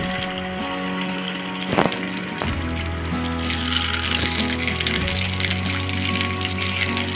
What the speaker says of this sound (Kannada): ಇವಾಗ ಇದು ಫ್ರೈ ಆಗಲಿ